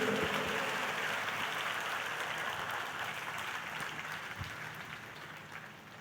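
A large congregation claps in praise at an outdoor Christian tent festival gathering, a dense sustained wash of applause that slowly fades toward the end.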